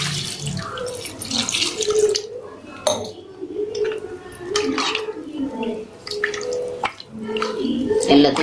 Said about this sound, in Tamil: இதில் தண்ணி ஊற்றிடணும்.